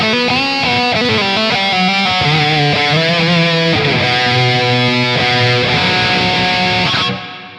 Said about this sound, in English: church